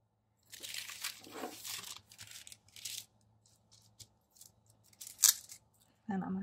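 Scissors snip through paper in a few short, crisp cuts with rustling between them, close and quiet.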